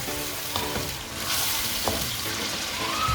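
Beef karahi frying in plenty of oil, a close, steady sizzle broken by a few soft stirring scrapes and brief spits, with no talk over it.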